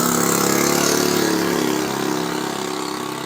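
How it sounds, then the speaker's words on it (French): A loud, rough engine runs continuously and close by, holding a steady droning idle that eases slightly toward the end, with no talk over it. "Il est bruyant son moteur,"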